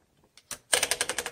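The handle of a 1960 Smith Corona Sterling typewriter is turned to feed paper, giving a few soft clicks and then a quick, even run of close ratcheting clicks.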